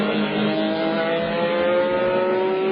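A GT race car from the 2000 FIA GT round at the Hungaroring powers out of a turn through the esses, its engine note rising steadily in pitch as it accelerates, loud and continuous with no gear change.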